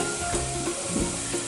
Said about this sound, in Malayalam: തേങ്ങാക്കൊത്തിട്ട് കൊടുക്കാം. നന്നായി ഒന്ന് മിക്സാക്കി കൊടുക്കാം.